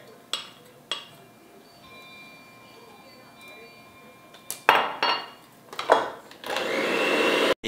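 Butter with white and brown sugar is creamed by an electric mixer; light clinks and knocks of kitchenware come first, then the mixer switches on with a loud, continuous whir at the end.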